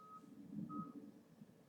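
A moving truck outside a house beeps faintly in the distance, two thin high reversing beeps spaced well apart over a muffled low rumble, with no talking.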